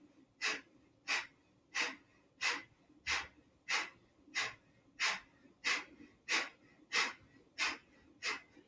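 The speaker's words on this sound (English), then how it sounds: "Exhale, the belly goes in." Rapid, forceful exhalations from a belly-pumping yoga breathing exercise repeat about every 0.65 seconds, twelve or so sharp, breathy puffs in a steady rhythm, close and clear with no talking.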